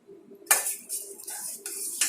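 A spoon clinks and scrapes against a bowl while stirring a lemon juice mixture, giving a few bright metallic knocks spread over a couple of seconds.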